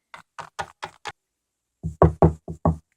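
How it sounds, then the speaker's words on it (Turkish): Knocking on a door in two bursts: five light, even taps, a short pause, then five heavier, louder knocks, each sharp and close. "Kapı çalıyor."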